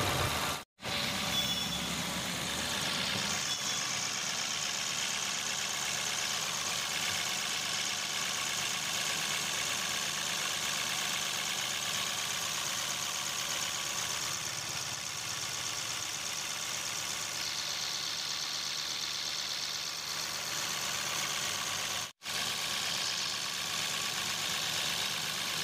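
Rebuilt Mahindra TUV 300 engine idles steadily and close by, a continuous mid-pitched rumble with a slight knocking texture, running alone with no talk and only two brief dropouts in the sound.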